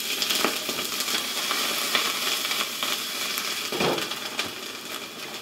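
Frozen stir-fry vegetable mix and peppers frying in olive oil in a pan, giving a steady, loud broadband sizzle with scattered crackles and pops throughout, with no talking.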